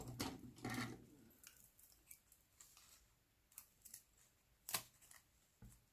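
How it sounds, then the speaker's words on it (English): Quiet, close snips of scissors cutting paper, a few crisp cuts at irregular intervals with soft rustling between them. "Scissors."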